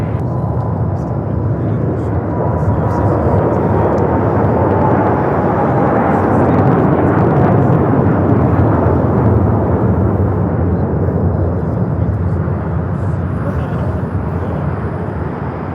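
A jet aircraft lands on runway 25 left at LAX with a loud, sustained broadband roar that swells slightly mid-way and holds steady throughout, close and dominant.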